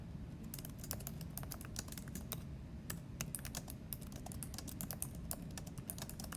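Typing on a computer keyboard makes a fast, uneven run of light key taps that goes on throughout, close and quiet over faint background hum, with no voices.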